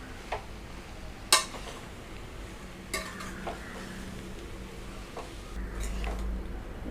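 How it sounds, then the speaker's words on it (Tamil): Beetroot rice being mixed in a pan, a steady run of spoon scrapes and stirring strokes with several sharp metallic clinks of the utensil against the pan, close by over a low frying hiss. "இப்போ நம்ம நல்லா மிக்ஸ் பண்ணிட்டா பீட்ரூட் சாதம் ரெடி ஆயிரும்."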